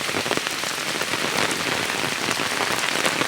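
Steady, dense rain pours down close by, a continuous hiss of drops striking a surface with no pauses and no voices.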